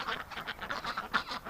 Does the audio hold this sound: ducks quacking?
yes